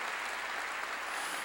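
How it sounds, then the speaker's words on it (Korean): A church congregation claps together, a dense, even burst of applause that fills the room without a break. "박수로 하나님께 영광 돌려서,"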